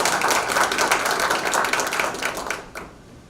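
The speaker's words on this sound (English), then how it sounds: "let's give a round of applause." A round of applause from the room at a press conference endorsing election candidates, thick steady clapping from many people that fades out abruptly near the end.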